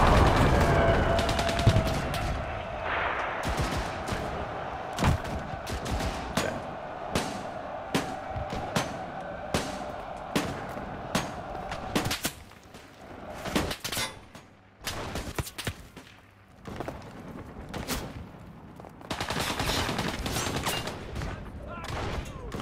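Repeated sharp gunshots in the shooter Enlisted, spaced single shots giving way to quicker volleys and heavier crackling fire, with a voice talking underneath at points.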